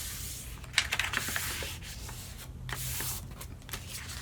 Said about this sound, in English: grab my blunt pointed tool and make that line there